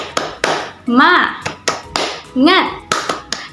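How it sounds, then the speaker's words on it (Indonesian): Rhythmic clapping chant by a class, steady hand claps in a patterned beat alternating with sung or chanted voices between the claps, close and loud. "kita tepuk semangat dulu yuk. Tepuk semangat."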